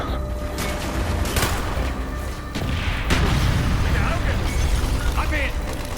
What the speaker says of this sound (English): Firing mortars!